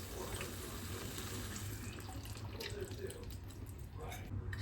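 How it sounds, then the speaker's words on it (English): Tap water runs steadily into a cooking pot as it is rinsed out in a kitchen sink, a close, continuous splashing stream that fills the whole moment. "I'm going to rinse this out with water and add in more."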